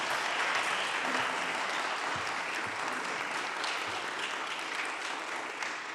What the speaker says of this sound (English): can I have a round of applause for technology